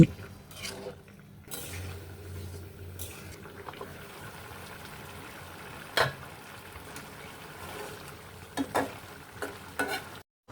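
White cardamom pods, cinnamon pieces and bay leaves sizzle softly in hot oil in a pan, with a spoon stirring and a few sharp metallic clinks against the pan.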